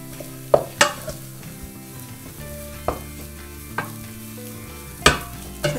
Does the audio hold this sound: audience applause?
no